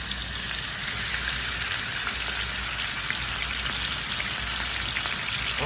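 Ground goat meat frying in hot oil for Jamaican brown stew goat, a steady dense sizzle and crackle like rain, close and continuous with no talking.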